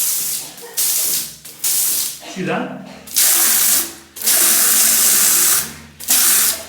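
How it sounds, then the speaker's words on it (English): A bung gun blasts water in a shower in short, loud hissing bursts, roughly six on-off spurts with brief gaps between them, and someone briefly speaks partway through. "Always good to test the bung gun first, because if you can shoot it in a shower,"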